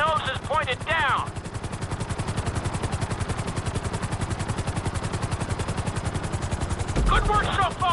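A helicopter flying at full speed in GTA V, with a rapid steady rotor thump pulsing loud and close throughout, and brief bursts of radio-like voice chatter at the start and end.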